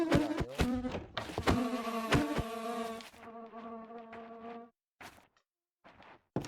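Flies buzzing in the video game From the Fog, a close, loud insect drone with wavering pitch, broken by a few clicks before fading into near silence with brief sputters.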